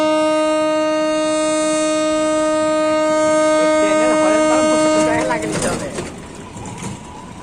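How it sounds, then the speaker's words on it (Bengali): The Lalgola passenger train waits at Sirajnagar station and sounds a loud, sustained horn for about five seconds. The horn then cuts off into noisy rumbling with voices nearby. "এই যে সিরাজনগর স্টেশনে এখন দাঁড়িয়ে আছে লালগোলা প্যাসেঞ্জার।"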